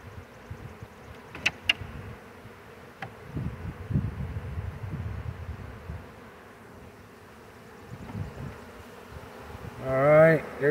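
A hot, stirred-up honey bee swarm hums and buzzes around a hive during installation, a low droning undertone with a few sharp clicks, swelling louder near the end.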